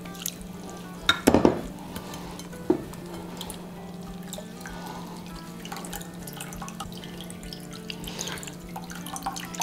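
A spoon stirs boiled potatoes up and down in a pot of cold water, giving watery sloshing and dripping with a cluster of sharp metallic clinks early on, over a steady low hum from the kitchen.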